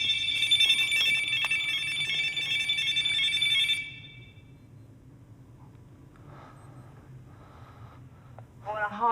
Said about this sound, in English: That's just our alarm.